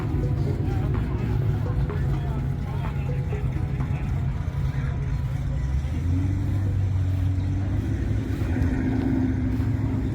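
A hot rod with an LS3 engine and C6/C7 Corvette exhaust at the Hot Rod Power Tour gives a deep, steady, close rumble whose pitch climbs partway through as the revs rise, with faint voices in the background.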